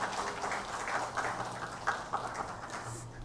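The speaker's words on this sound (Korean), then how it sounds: "은혜로운 찬양해 주신 성가대원들에게 다시 한번 감사의 박수하겠습니다." A church congregation at a Hanyang University Sunday service applauds its choir with soft, fairly distant clapping that stays steady for a few seconds.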